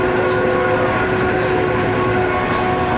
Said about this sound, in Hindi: काफ़ी तेज़ रफ्तार है भाई ट्रेन इधर।